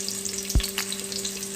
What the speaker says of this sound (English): just going to take about a couple of garlic pods and add it to my hot oil